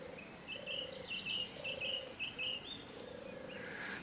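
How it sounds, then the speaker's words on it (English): A turtle dove gives soft, repeated purring coos in short phrases, faint and distant over a low outdoor background hiss, with other small bird chirps mixed in. "there's a turtle dove turring away"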